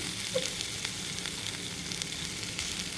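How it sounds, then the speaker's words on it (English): Steady broadband sizzle of an Asian stir-fry in a hot pan, with faint scraping as it is stirred, continuous and close. "We're going to keep stirring and frying."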